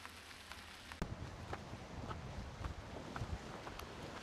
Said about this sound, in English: It is insanely windy.